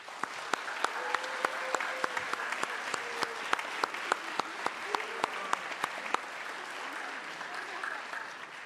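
At a school spring instrumental concert, the audience claps for Mr. Bushy, producing soft, distant, scattered applause with a few sharper individual claps standing out, slowly thinning toward the end.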